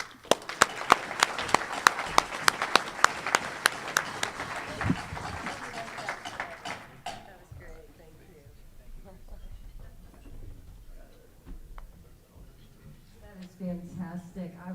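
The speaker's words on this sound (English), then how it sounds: "Please give a big round of applause to two great human beings and two great musicians." A Rotary Club audience in Tucson claps for two musicians: crisp, separate claps ring out for several seconds, then thin and fade as people begin talking over a quieter room.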